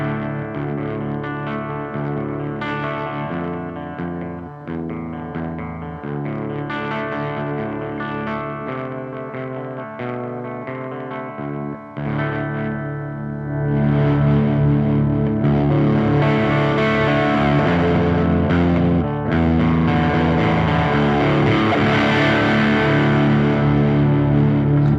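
An electric guitar runs through an EVH 5150 Iconic 80 head on its cleanest setting, still slightly gritty, playing loud continuous chords and riffs that thicken and brighten in the second half.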